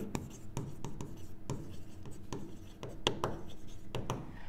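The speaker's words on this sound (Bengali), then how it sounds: "দাঁড়া আমি তোমাদেরকে একটু লিখি" A pen scratching across paper in quick, irregular strokes with small taps between them, close and fairly quiet.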